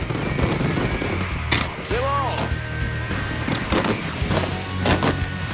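Chinese ground box fireworks firing outdoors, a run of sharp, loud bangs and crackling bursts in irregular succession, with voices talking underneath.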